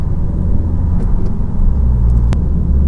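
A Honda Civic driving and turning right, giving a continuous muffled engine and road rumble from inside the car, with a soft click partway through and no talking.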